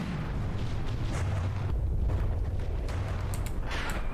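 HESH frag explosive shells fire and burst in the naval combat game From the Depths, a continuous rumbling roar of overlapping booms, loud and dense with deep low-end weight and scattered sharper cracks, no talk over it.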